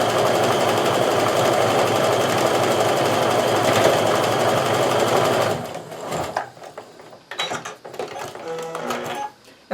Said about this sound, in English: So I'm going to and sew that top piece on.